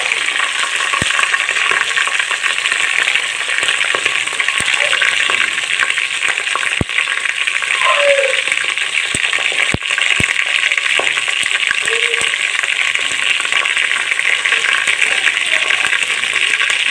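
Green chillies and spices frying in a pan give a steady, close hiss and sizzle, punctuated by sharp clicks and scrapes of stirring.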